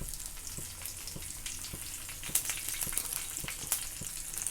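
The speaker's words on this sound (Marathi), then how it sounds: "आपल्याला हे दोन्ही साईडनं भाजून छान असे तेलात तळून घ्यायचे" Okra pieces fry in hot oil over browned garlic on a flat pan. The sizzle is a continuous soft crackle with scattered small pops and light taps as pieces are set down. It is close and moderate in level, with no voices.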